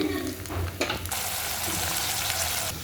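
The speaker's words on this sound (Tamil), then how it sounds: "பிரண்டை நல்லா எண்ணெயில் பொரிஞ்சிருச்சு" Pirandai (adamant creeper) pieces fry in hot oil in a pan for chutney, giving a steady bubbling sizzle that swells into a brighter, hissing crackle partway through, heard up close with no talking.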